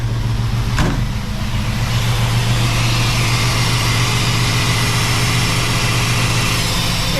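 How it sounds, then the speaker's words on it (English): The engine of a Willys 4x4 wagon idles high with a loud, steady, even rumble that runs through the whole stretch without a break. "I got the idle turned up pretty high"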